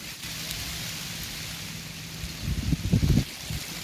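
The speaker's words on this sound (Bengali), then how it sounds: "গুড়ি গুড়ি বৃষ্টিও হচ্ছে আলহামদুলিল্লাহ, এই যে দেখতে থাকুন, বৃষ্টি হচ্ছে" Light drizzle falling over a vegetable field of pointed gourd, a soft steady patter of fine rain with a few louder bursts of drops near the end, no voices.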